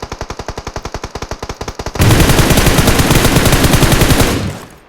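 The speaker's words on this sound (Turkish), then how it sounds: "Bunlar arkadan biri sıkıyor." Gunfire from behind in the mobile battle-royale game PUBG Mobile: a steady rhythmic burst of about twenty evenly spaced shots, then a louder, denser stretch of rapid automatic fire for more than two seconds before it cuts off.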